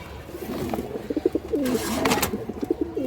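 Indian high-flyer pigeons give repeated throaty coos close by, several bubbling calls in quick succession over a low background hum.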